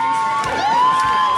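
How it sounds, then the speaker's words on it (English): A crowd cheers and shouts with children's voices mixed in, applauding a dance performance at a family circus show. The sound is a steady, loud wash of voices across the whole short moment. "At least they're cheering."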